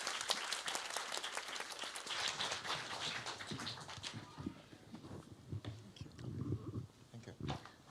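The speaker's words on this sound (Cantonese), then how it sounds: "俾個掌聲我哋2位牧師" A church audience at a Yuen Long evangelistic rally claps for two pastors, a burst of applause that thins out partway through, after which murmuring and scattered taps carry on.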